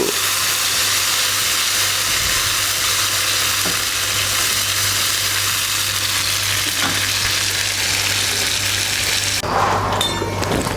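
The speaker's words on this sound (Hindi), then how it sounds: "ज़बरदस्त फ्राइंग का प्रोसेस हो रहा है जी।" Masala of tomato and green chilli paste fries hard in a karahi, a loud, close, continuous sizzle with occasional stirring scrapes and a brief louder crackle near the end, no voices.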